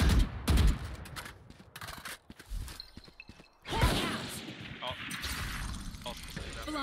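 Gunfire bursts crack in a Valorant round, with rapid volleys early and a heavier sustained barrage after a brief lull, mixed with game effects and excited voices.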